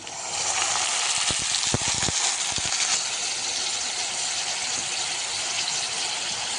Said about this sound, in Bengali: পেঁয়াজ কাঁচামরিচ ভাজা হয়ে গিয়েছে তো এখন আমি গুঁড়া মশলা দিব গুঁড়া মশলা দেওয়ার আগে একটু পানি দিয়ে দেই